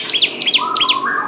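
A cigun songbird held in a person's hand sings three quick, bright chirping phrases in close succession, loud and near, with a short whistle-like note drawn out underneath.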